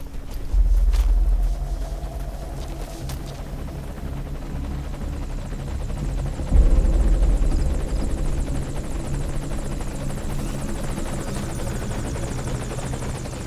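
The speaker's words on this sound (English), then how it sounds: "Sounds like there may be a helicopter incoming." Helicopter approaching in Metal Gear Solid 5: The Phantom Pain, a steady rotor drone with low rumbling thumps that swell around the middle and hold on, with no talk.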